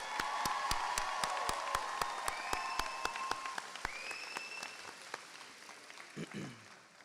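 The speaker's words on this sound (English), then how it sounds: "can we get one more round of applause for the class of 2026?" An audience at a high school commencement claps for the graduating class, a fairly quiet, steady patter of applause with whistle-like tones riding over it and a brief voice near the end.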